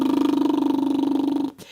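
A lip trill made with two fingers supporting the lips gives a close, rhythmic buzzing flutter held on one steady pitch for about a second and a half before cutting off.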